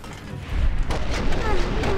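Missile explosions in Fallout: New Vegas, used against a guardian enemy: a burst of deep, rumbling booms swells up after half a second and stays loud through the rest, with game noise layered underneath.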